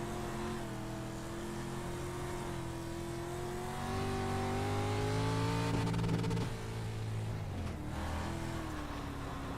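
A street stock race car engine in iRacing revs loudly and steadily, its droning pitch climbing and shifting between gears, with a brief dip and recovery near the end; no talk.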